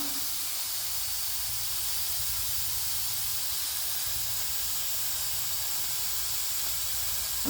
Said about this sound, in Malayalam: സവാള നമുക്ക് മൂപ്പിച്ചെടുക്കണം.